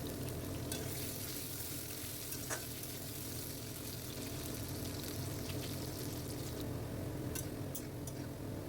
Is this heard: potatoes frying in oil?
yes